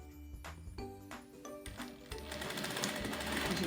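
Sewing machine stitching a seam on a cotton dish towel with a hem border, starting with a few separate clunks and then running continuously, close but fairly quiet.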